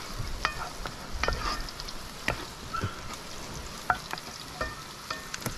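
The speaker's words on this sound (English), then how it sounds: "frying some of the breadfruit" Yellow heart breadfruit frying in hot oil outdoors in Jamaica, a steady crackling sizzle with bursts of popping and occasional stirring scrapes, close and continuous.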